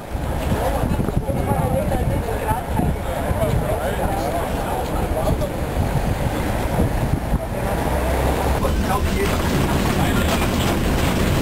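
A historic tram rides through Görlitz with a continuous rattling, rumbling roll of wheels on rails heard from aboard, steady throughout, with voices talking underneath.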